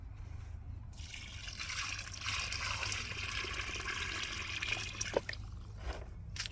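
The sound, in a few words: pouring seaweed treatment water from a bucket onto plum trees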